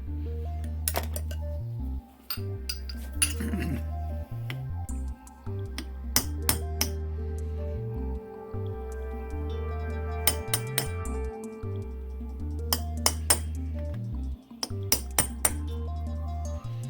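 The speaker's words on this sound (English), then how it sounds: "I staked the plug in place using a center punch around the rim of the plug." A center punch is tapped around the rim of a plug in a Solex H30/31 PICT carburetor, giving a series of sharp metallic clinks and taps in irregular clusters over a steady background hum.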